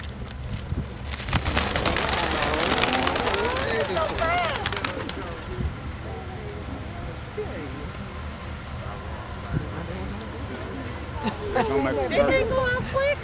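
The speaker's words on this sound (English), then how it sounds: "So at this time, we release the doves" Doves are released at a vault sealing ceremony, with a burst of fluttering wings and bird calls up close. Voices murmur underneath, and the flapping and calls return near the end.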